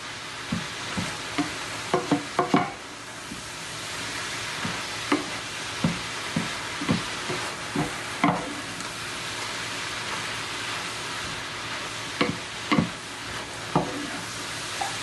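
Collard greens cooking with liquid smoke in a pan give a steady soft sizzle, with scattered stirring clicks and scrapes at irregular intervals, fairly close and moderately quiet.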